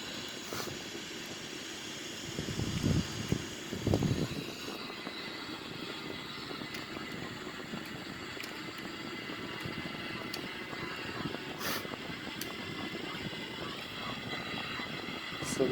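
A Sukhoi-30M2 jet takes off with its landing gear retracting, a steady roar heard from inside the cockpit with a couple of louder surges early on and a constant drone after.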